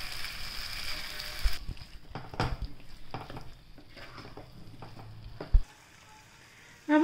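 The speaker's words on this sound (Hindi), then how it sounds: "अब इसको हम कम से कम 10 मिनट के लिए इसके साथ ऐसे ही भूनने देंगे इसको" Chicken with masala frying in a pan for chicken bhuna masala, a soft steady sizzle with intermittent scrapes and clinks as it is stirred, with a louder knock near the end.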